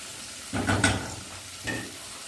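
Zucchini and onion sautéing in a pan, giving two short bursts of sizzling and stirring, one near the start and a fainter one later, with quiet gaps between.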